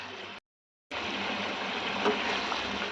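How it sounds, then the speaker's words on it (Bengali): Prawn gravy boiling in a pan gives a steady, soft bubbling hiss that fills the clip, broken only by a brief moment of silence near the start. "ঝোলটা ফুটে উঠেছে।"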